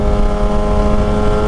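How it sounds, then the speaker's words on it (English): Kawasaki ZX6R motorcycle accelerating hard, its engine loud and close with a strong, steady high-pitched whine throughout. "This bike just goes."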